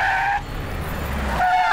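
A car brakes to a stop with a long, loud tire squeal and skid that fades briefly and then rises again, with no talk over it.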